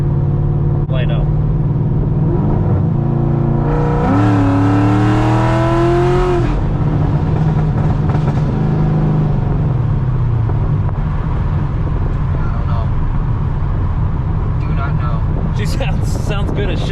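A C6 Corvette engine set up for nitrous testing idles loudly and up close, with a sharp rev rising and falling in the middle before settling back to a steady rumble; people talk over it.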